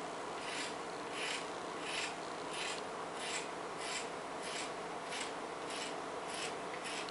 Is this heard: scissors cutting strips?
yes